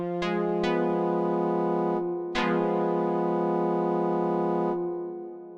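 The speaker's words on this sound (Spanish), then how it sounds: "Esto hace que el acorde principal sea un acorde disminuido que suena así." A diminished chord on guitar for post-punk or darkwave, struck with a couple of quick picked attacks, then strummed again and left ringing several seconds with an effects-laden shimmer before cutting off; no talking.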